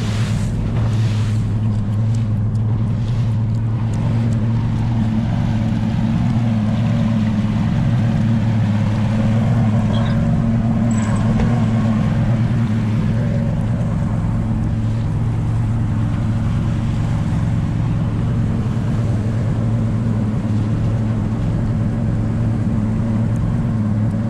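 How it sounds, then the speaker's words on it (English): A big boat passes on open water near Naples, Florida, its engine a steady low rumble under continuous wind buffeting and the wash of waves, loud and unbroken throughout. "Maybe after that big boat goes by."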